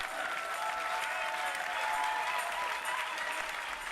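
Church congregation applauding together, a steady dense wash of clapping that stays loud and even throughout with no voices rising above it.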